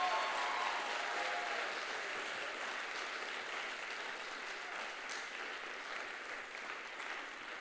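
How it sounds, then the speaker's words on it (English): Audience applause at a Bharatanatyam arangetram, a broad, fairly distant wash of many hands clapping steadily and slowly tapering off. "let's give Gino another huge round of applause for this incredible"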